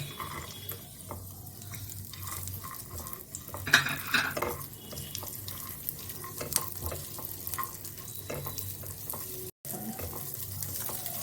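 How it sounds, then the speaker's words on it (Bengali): Cashews and raisins fry in a pan with a soft, steady sizzle, broken by repeated scraping stirs and light clinks of a utensil against the metal. "এই যে কাজু কিশমিশটা ভেজে এটা একটু পরে দেবো"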